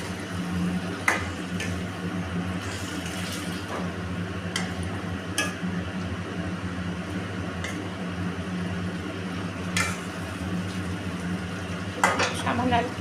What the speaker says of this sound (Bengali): দেখো ডিমটা দিয়ে দিচ্ছি